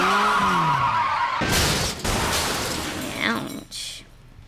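A motorcycle in a video game skids and brakes, spinning around after losing its rider: a loud, broad scraping burst after some tonal game sounds, fading out with a brief squeal near the end.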